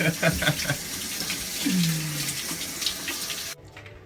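Cold shower water runs in a broad, steady hiss during a trip in Sweden and breaks off abruptly near the end, with a short voice or tone sliding down partway through.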